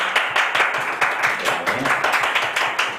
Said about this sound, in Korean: 우리 힘내시라고 박수하겠습니다